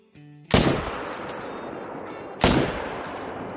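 Two loud rifle shots in theHunter: Call of the Wild, a sharp crack with a long rolling echo, spaced about two seconds apart over a quiet outdoor hunting ambience.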